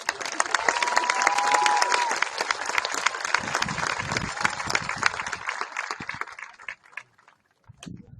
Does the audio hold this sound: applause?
yes